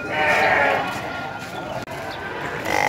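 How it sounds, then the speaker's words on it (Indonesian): Goats bleat amid the busy crowd of a livestock market selling goats, with people talking throughout and the bleats rising loud over the chatter near the start. "keramaian penjual pasar kambing yang ada di sini"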